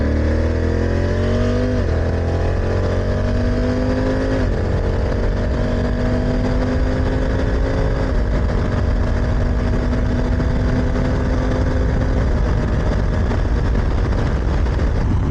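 A car merges onto a German autobahn in the rain, loaded with luggage, its engine note climbing through gear changes as it accelerates, with steady road and wind noise throughout and no talking.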